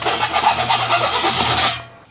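A saw fitted with a 24-tooth metal-cutting blade rasps steadily through spiral metal ductwork in a pole barn, one loud, continuous close cut lasting under two seconds before it stops abruptly.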